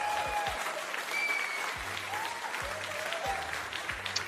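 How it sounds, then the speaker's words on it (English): Recorded applause, a crowd clapping steadily at moderate volume, with faint low thumps and a few scattered tones underneath. "Let me give you some applause."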